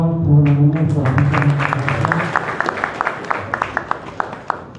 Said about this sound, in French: prenez l'applaudissement pour le ministre de la